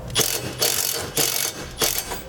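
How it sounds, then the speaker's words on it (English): A ratchet with a 9/16 socket tightening U-bolts on helper-spring brackets under a 2016 vehicle, giving four evenly spaced bursts of rapid clicking close up with short pauses between strokes. "we'll tighten our U-bolts down with the bracket just touching the bottom of the frame"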